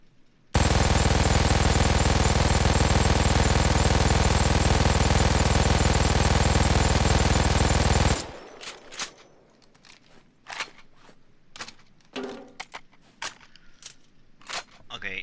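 An MG-42 Buzzsaw general purpose machine gun fires one long, dense unbroken burst for about eight seconds in the video game Payday 2, followed by scattered impact clicks and faint rattles.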